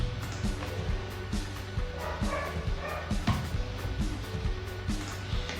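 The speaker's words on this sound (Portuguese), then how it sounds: "o cachorro começa a latir" A dog barking repeatedly indoors in short, irregular bursts, close and fairly loud against a steady background hum, with no talking.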